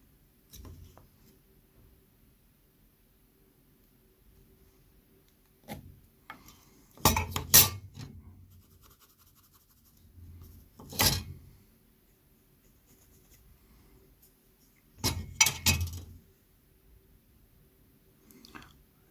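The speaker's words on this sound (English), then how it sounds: "we draw the line going across" Scribe or pencil scratching across pewter while marking out lines for a dovetail joint, in a few short scraping strokes spaced several seconds apart, close and fairly quiet with near silence between.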